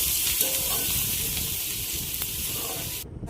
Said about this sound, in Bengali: কাঁচা লঙ্কা আর পেঁয়াজ, পেঁয়াজটাকে নাড়াচাড়া করে দিই।